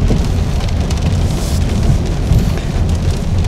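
Steady rain in Davao City drums continuously on surfaces nearby, a loud, dense hiss with a low rumbling undertone and no pauses or voices.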